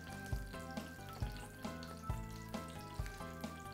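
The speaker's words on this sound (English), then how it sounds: "And whoop, hear that simmer." A pot of pureed Mexican meatball sauce simmers quietly, popping and blipping in soft irregular bursts against a faint background hum, close and low in level.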